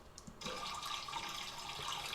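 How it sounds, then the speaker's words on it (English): Flowing water sound effect, a steady rushing stream that swells in after a brief quiet start and runs continuously, fairly soft with no voices. "So now we've got some nice water flow in the background."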